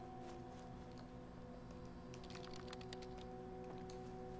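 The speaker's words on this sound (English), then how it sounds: "Oh, look at me typing away." Faint clicky keyboard typing from the video game Camp Sunshine, a few soft scattered keystrokes heard over a steady hum of background tones.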